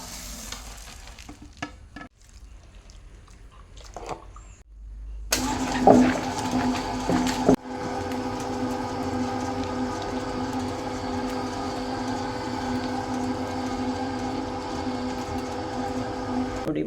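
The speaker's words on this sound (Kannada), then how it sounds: "ಇವಾಗ ಇದನ್ನು ನೈಸಾಗಿ ಗ್ರೈಂಡ್ ಮಾಡಬೇಕು." Dried red chilies, tamarind, garlic and onion are ground into a fine masala in a kitchen mixer grinder. After a few quiet handling clicks, the motor starts with a loud whirring roar that runs steadily and close up, with no talking.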